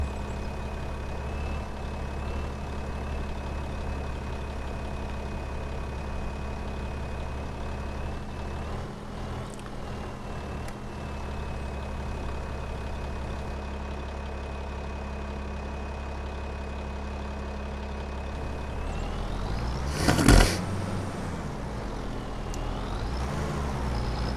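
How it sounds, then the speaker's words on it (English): An engine idles steadily on a homestead while warming up, a low, even drone that stays constant throughout, broken near the end by a brief, loud hiss-like burst before the idle settles again. "Let her engine warm."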